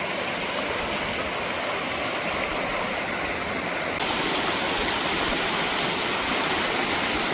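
Steady, full roar of a waterfall and rain-swollen creek at North Harper Creek Falls in North Carolina's Pisgah National Forest, a broad unbroken rush heard close, swelling slightly louder partway through.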